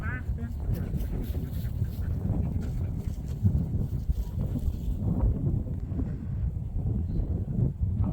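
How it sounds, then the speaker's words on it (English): Wind buffets a handheld camera out in a sheep pasture, a constant low rumble that lasts throughout, with people talking over it. "the wind's blowing my camera"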